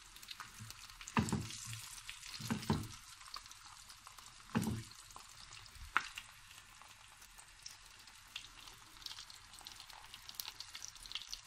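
Food sizzles quietly in a pan with a soft continuous hiss, broken by a few louder clattering bursts, likely stirring or scraping, with no talking.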